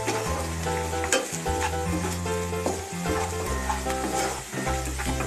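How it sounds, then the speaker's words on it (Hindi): Onions frying with turmeric powder in a pan, a steady loud sizzle with stirring scrapes and clinks over it, close and continuous. "अब इसमें हल्दी पाउडर डाल देते हैं। इसे थोड़ा भून लेते हैं।"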